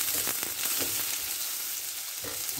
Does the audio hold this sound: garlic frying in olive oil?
yes